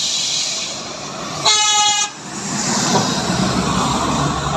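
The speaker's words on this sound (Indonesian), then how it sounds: "apa tuh klakson dia" A passing train on a fast line sounds its horn once in a loud, roughly half-second blast, set over a constant rushing rumble of rail traffic and wind.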